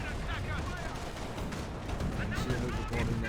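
Battle gunfire and artillery in the Company of Heroes 1 video game, a dense rumbling mix of shots and booms running continuously under a commentator's steady talk.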